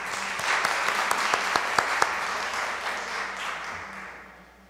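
Seminar audience on children's and adolescents' rights applauds the two panelists joining the table, a steady round of clapping with a few sharp louder claps standing out, gradually fading out toward the end.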